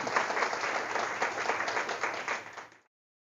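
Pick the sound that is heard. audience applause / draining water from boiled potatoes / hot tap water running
audience applause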